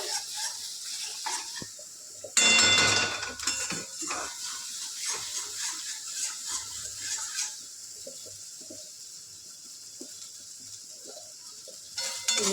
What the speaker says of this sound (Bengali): এবার দেখো এগুলো ভালো করে নাড়ছে এটা।